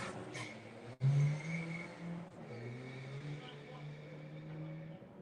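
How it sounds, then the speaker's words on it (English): A diesel VW Golf Mk4 TDI launches on a drag strip, its engine note rising and holding as the car pulls away. The sound is moderately distant, with a crowd and a commentator's voice faintly underneath. "first run of the weekend for Sean Duffy with the TDI Mark IV Golf"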